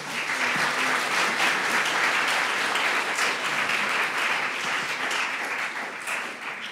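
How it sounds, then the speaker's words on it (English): An audience at a panel discussion gives the panelists a round of applause, a full, steady wash of clapping from many hands that holds throughout and only slightly thins at the end. "I'm going to ask the audience to first to give my panelists a round of applause"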